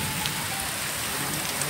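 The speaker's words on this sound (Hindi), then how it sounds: "बहुत तेज़ बारिश हो रही है।" Heavy rain pours down steadily at home during a storm, a dense, even hiss of water drumming on surfaces and trees with no voices.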